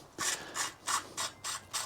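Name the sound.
threaded sleeve rotated out of electric bike part with nuts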